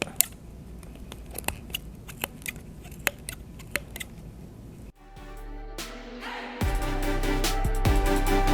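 Scissors snip repeatedly through yarn wound for a pom-pom, a series of sharp, close cuts at an irregular pace, followed by rustling and a steadier, fuller noise near the end.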